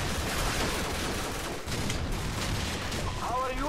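A grenade goes off in Call of Duty 4, a broad rumbling blast that fills the mix, followed by lingering rumble and game noise.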